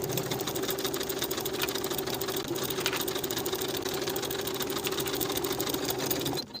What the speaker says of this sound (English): Sew these underarm seams with a 1/2-inch seam allowance and press the seams open.